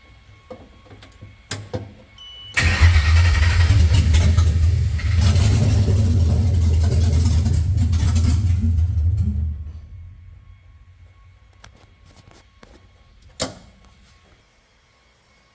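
Ford Coyote V8 swapped into an S197 Mustang, running on a standalone setup, cranks and fires, then holds a loud, steady idle-to-rev roar for about seven seconds before shutting off, with faint clicks and clatter before and after.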